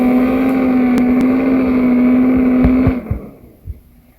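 A gasser drag car launches hard with its wheelie bars hitting the ground, a loud steady engine roar that cuts off abruptly, followed by a few scattered knocks and thumps.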